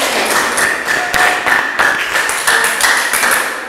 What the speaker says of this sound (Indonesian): sebelumnya berikan dulu tepuk tangan supaya semangat.